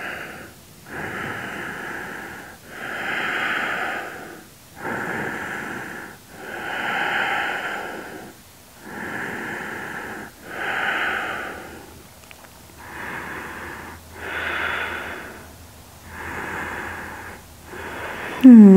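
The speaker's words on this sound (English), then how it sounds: "Just breathing here." Slow, steady breathing during a yoga stretch for sore muscles: about seven or eight soft inhale-exhale cycles, each a few seconds long, close and clear with nothing else over it.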